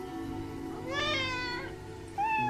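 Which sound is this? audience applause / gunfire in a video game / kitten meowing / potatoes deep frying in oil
kitten meowing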